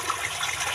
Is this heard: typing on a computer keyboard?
no